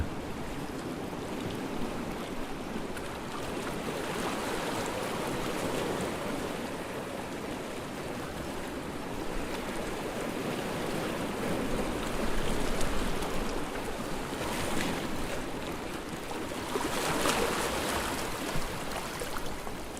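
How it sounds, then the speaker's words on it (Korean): Ocean waves on Jeju Island wash continuously onto the shore, with louder surges breaking near the end over a constant hiss of surf. "이 파도가 들려주는 맑은 소리에 위로를 받았으면 좋겠습니다"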